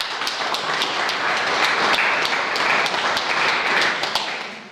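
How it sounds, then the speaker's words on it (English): Audience applause for a camogie player being presented at a Scariff Bay event, a steady wash of many hands clapping with sharp individual claps standing out, sustained for several seconds with no talk over it. "Please applaud her though."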